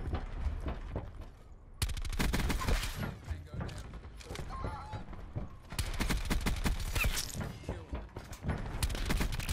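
SMG fire in a video game, rapid, loud bursts of automatic shots that stop and restart several times, with short quieter gaps between the volleys.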